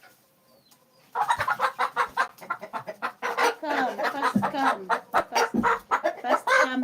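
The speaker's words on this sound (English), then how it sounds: "these hens seem like they're eating." Hens cluck busily while eating, a dense run of close, loud clucks and squawks that start abruptly and keep going, with a rooster-like call mixed in and a person speaking briefly among them.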